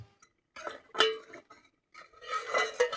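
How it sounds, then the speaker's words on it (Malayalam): Metal lid set onto a cooking pot of Kerala brinjal curry, a couple of clinks and clatters, close and moderately loud, with brief pauses between. "പിന്നീട് നമ്മൾ ഒരു അടപ്പ് വെച്ച് ഇത് മൂടി വെച്ച് വേവിച്ചെടുക്കുകയാണ്."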